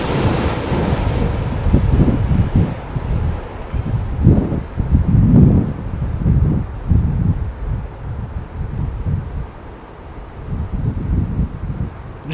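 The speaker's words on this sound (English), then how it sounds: "I've just got a big gust of wind right there, so this is the strongest it's been so far." A strong gust of wind at Heathrow Airport during Storm Nelson buffets the microphone with loud, continuous broadband roaring, surging in several waves and easing briefly near the end.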